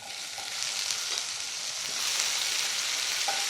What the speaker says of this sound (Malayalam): അതിലേക്ക് നമുക്ക് നമ്മുടെ തക്കാളി ആഡ് ചെയ്ത് കൊടുക്കാം.